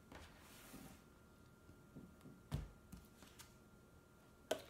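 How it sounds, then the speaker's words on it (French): Tarot cards being shuffled and drawn, with soft riffling and sliding, a few sharper snaps of cards laid down, quiet and close, no speech. "Je vais sortir plus de cartes"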